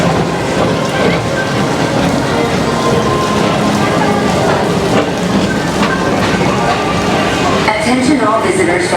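Steady rain hisses over the Magic Kingdom Tomorrowland Transit Authority PeopleMover at Walt Disney World, a constant wash of drops drumming around the moving ride car.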